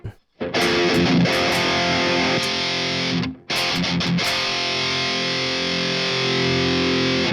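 An electric guitar played through a Jeff Loomis Devil's Triad distortion pedal gives heavy metal tones: loud, saturated chugging chords with two brief stops, then a sustained ringing chord.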